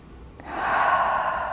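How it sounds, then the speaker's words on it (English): A single slow, deep inhale during a guided healing meditation: a soft, breathy rush that swells steadily and holds, close and clear with no talking. "deep breath"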